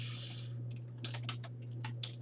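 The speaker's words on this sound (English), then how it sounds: "And then we're going to type in" Short, quiet bursts of typing on a computer keyboard click over a steady low electrical hum, a few quick keystrokes following a soft hiss at the start.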